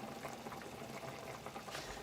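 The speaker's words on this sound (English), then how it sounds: "so it's boiling now, so I'm gonna turn it down to simmer" Curry with potatoes boils in a pot on the stove, a faint, steady bubbling and fizzing that runs evenly throughout with no talk.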